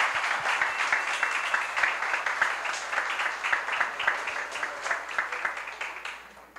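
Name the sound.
applause for the seminar organizers and workers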